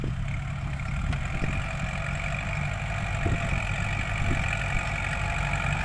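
A Kubota six-wheeled farm tractor idles at a rural competition in Surin, Thailand, its engine giving a steady, even low rumble with faint knocking throughout and no voices.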